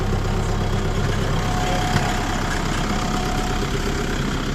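A motorcycle engine idles steadily at close range after a tire blowout, a continuous even rumble with no change in pace or any voices.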